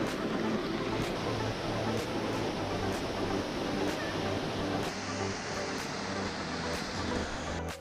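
A forest waterfall in Puebla, Mexico, a dense, steady roar of falling water, constant and broadband, with faint periodic clicks over the rush.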